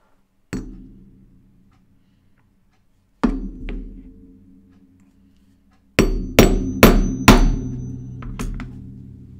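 Rivets are hammered onto an anorak jacket: a single sharp strike, then another after a pause, then a rapid run of four or five hard metallic taps, each ringing briefly, close and clear.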